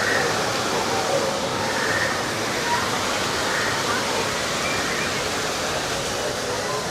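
Artificial waterfalls at Disney's Animal Kingdom in DinoLand USA give off a steady, loud rush of falling water. The roar holds evenly throughout, with crowd murmur faintly mixed in.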